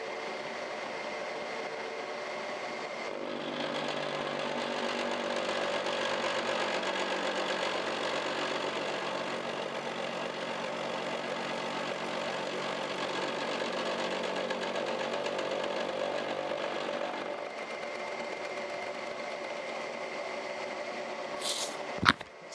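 A milling machine cuts steel for a steam locomotive connecting-rod bearing fixture, a steady droning machining noise running from about three to eighteen seconds and ending in a brief sharp clank.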